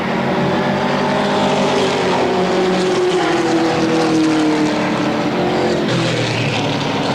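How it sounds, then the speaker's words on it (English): Race cars at speed on the Motordrome Speedway oval in 1992, including a Ford Thunderbird stock car, their engines blending into a loud, continuous droning roar with a pitch that sweeps as the pack passes. "we get the green. We're up to speed in racing."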